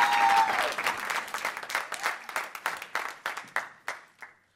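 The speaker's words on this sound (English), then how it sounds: "I want you all to clap your hands for Mr. Justin Powell" Audience applause for a scholarship winner at a school event, a dense burst that quickly thins into fewer, sharper individual claps and dies away, with a brief tonal sound at the start.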